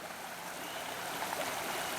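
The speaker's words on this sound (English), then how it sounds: "I am up on the banks of the creek." A creek flows steadily below its banks at night, giving a continuous broadband rush and hiss of moving water, moderately loud and even, with no one talking.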